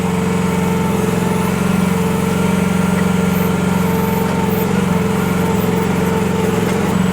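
A 1-ton Chinese mini excavator's small diesel engine idles steadily and loudly nearby in hot sun, a continuous throbbing hum with no changes in pace and no voices.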